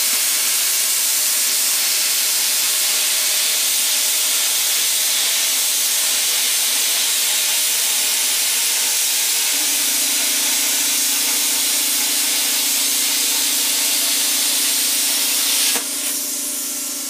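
YESWELDER CUT 55DS plasma cutter on 120 volt, set to 55, cutting metal with a loud steady roaring hiss, a low tone joining midway before the cut stops abruptly.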